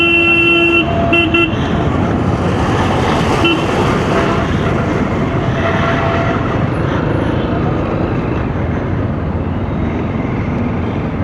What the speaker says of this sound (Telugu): సండే రోజు కూడా మనకి ఇంత ట్రాఫిక్ దొరుకుతుంది చూడండి